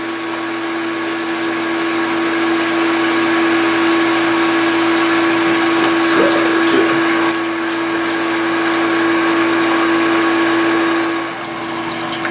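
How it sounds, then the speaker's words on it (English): An electric pump drives water in a two-vessel RIMS brewing system, spraying it out the top, with a loud, steady hum and rushing water over a constant tone; it holds for about eleven seconds, then eases slightly. "as soon as we hit the pump, we should hear water start to spray out the top here"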